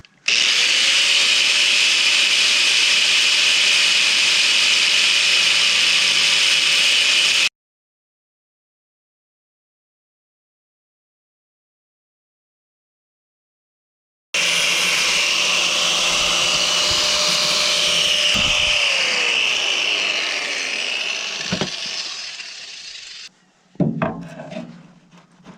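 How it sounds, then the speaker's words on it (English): A grinder works the end of a model train coupler, a high, steady whine that runs, stops for several seconds, resumes and then winds down with a few scraping touches. "I just had to take a grinder and skinny the end up on it"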